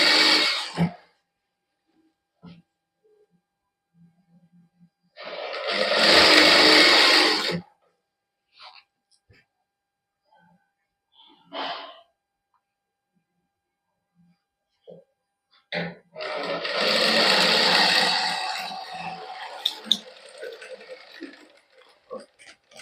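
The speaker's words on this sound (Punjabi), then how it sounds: "ਇਸ ਤਰ੍ਹਾਂ ਮੋਟਾ ਬਹਾ ਕਰਕੇ ਸਲਾਈ ਲਾ ਲਾਂਗੇ" A boutique sewing machine stitches the fabric of a kameez front and back with thick tacking stitches. Two long whirring runs are separated by quiet pauses with scattered clicks and handling noises.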